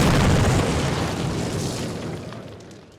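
In Call of Duty, explosives blow apart a cinder block wall during a training mission, a loud deep boom that rumbles and slowly fades over about three seconds.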